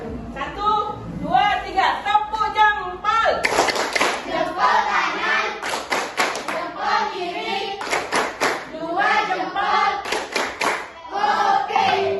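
A group plays a thumb-clapping game in a microteaching class, with bursts of rhythmic clapping mixed with loud voices and chanting, close and busy throughout.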